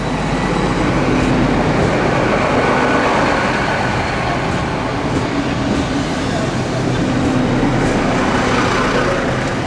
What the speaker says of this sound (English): So this is the Newquay train coming in now